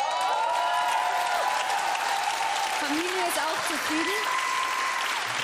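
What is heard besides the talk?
audience applause after a dance show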